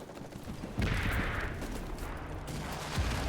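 Artillery fire in a World War II video game: a heavy, rumbling boom lands near the start, followed by a dense, sustained roar of distant blasts and gunfire with another thump near the end.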